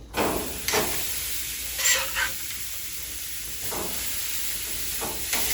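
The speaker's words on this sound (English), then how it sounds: "We're going to get us a good sear on both sides" Meat searing on a hot grill inside a pizza oven, a steady loud sizzle and hiss throughout with a few brief scraping swells, close and without talk.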